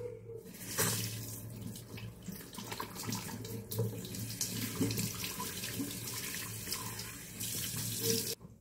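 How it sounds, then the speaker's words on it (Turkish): Cold water runs steadily from a tap into a sink as a face is washed, with soft splashes breaking the flow partway through, quiet and close with no talking. "Yüzümüzü soğuk suyla yıkayalım ve tıraş sonuna geçelim."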